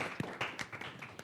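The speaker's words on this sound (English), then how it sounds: "I think we should give them a round of applause." Audience applause at a panel discussion on Canada's energy transition: scattered, fairly faint clapping with a few sharper claps standing out over a short stretch.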